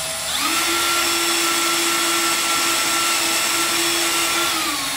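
A power drill whirs steadily at a constant pitch for several seconds, loud and close, with a high motor whine and no talking, during drivetrain work on an LS-swapped Mazda Miata.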